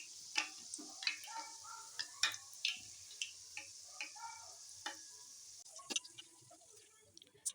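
Wheat-flour puri frying in hot oil and pressed with a ladle, a faint bubbling sizzle broken by light regular ticks and taps, close and quiet without speech.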